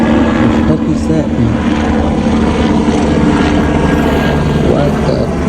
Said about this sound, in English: This is what I'm talking about, the helicopter.